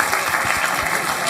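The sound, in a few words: applause, clapping for a student's answer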